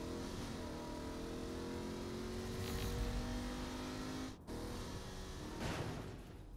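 A car engine in the video game Agents of Mayhem revs and accelerates, a rising harmonic drone with a brief dip midway, steady and fairly close, with no talking.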